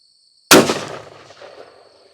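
A single sharp rifle shot from a Savage 7mm Backcountry firing 170 grain ammunition at a 100-yard range cracks loudly and close, then rings out in a decaying echo.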